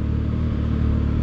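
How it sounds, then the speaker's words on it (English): A 2019 Can-Am X3 side-by-side engine runs in a short, close, steady rumbling burst with no voices. "So we have a 2019 Can-Am X3."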